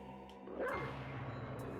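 A dog barks in Castlevania Symphony of the Night, a single quiet game bark or yelp rising briefly over a steady low background of game music and ambience, with no talking.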